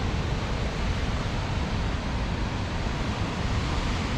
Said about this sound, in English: The noise when the waves is hitting the rocks like that.